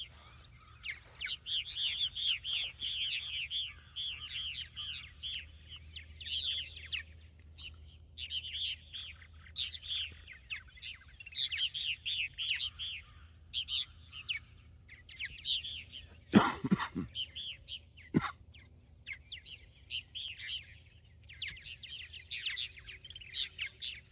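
Purple martins chirp in repeated bursts of twittering around a quiet farm, moderately close, with a couple of sharp cough-like knocks partway through and low background rumble.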